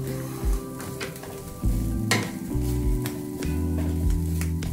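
Sri Lankan-style tin fish fry stirred in a pan with pepper-cumin powder, a close sizzle with a few scraping stirs of a spoon, no voices.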